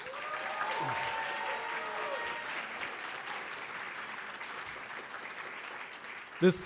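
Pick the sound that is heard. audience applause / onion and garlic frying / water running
audience applause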